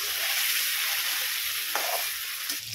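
Ginger, garlic and green chili paste with salt sautés in a pan, a close, steady sizzle with a few faint scraping stirs and no talking.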